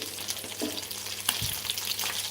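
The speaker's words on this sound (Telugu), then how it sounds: "సో చూడండి ఇక్కడ ఫ్రై అయితే అవుతున్నాయి ఆల్రెడీ" Fish pieces shallow-frying in hot oil, a continuous close sizzle with small crackles and one brief clatter, no voices.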